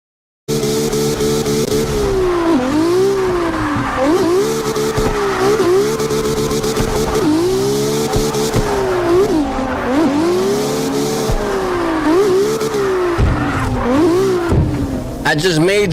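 A custom-built car drives with squealing, skidding tires, the engine note rising and falling in repeated sweeps over sixteen seconds, loud and close with continuous tire screech.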